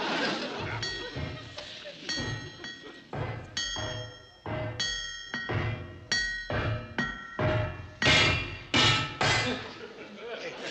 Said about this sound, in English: You keep on with the hammer and I'll add some extras.